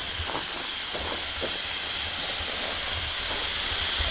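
Compressed air hissing steadily as it vents from an air line through an air chuck, a loud continuous rush close by with no talking.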